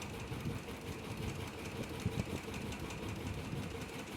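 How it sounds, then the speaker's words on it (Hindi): A sewing machine runs steadily, stitching pleats into a salwar, producing a continuous close mechanical hum with a fast rhythmic chatter and no voices. "अब हमें इसे स्टिच कर लेनी है फ्रेंड्स बड़ी प्लेट्स लेके"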